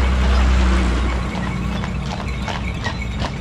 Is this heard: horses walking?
yes